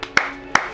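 Two sharp hand claps about 0.4 seconds apart from a church congregation acclaiming the Lord, with a short reverberant tail after each clap.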